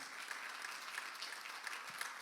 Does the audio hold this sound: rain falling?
no